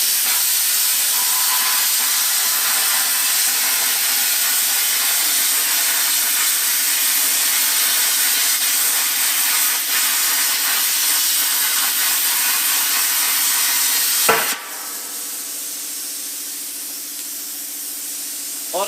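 ARCCAPTAIN CUT 55 plasma cutter slicing a slot through quarter-inch steel plate, a loud steady hissing roar close by that runs unbroken, then cuts off abruptly to a quieter hum.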